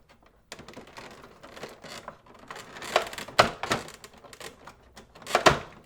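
A knife saws and snaps through plastic bands on the packaging of a Transformers Titans Return Trypticon toy, giving irregular close clicks, scrapes and crinkles with a few sharper pops toward the end.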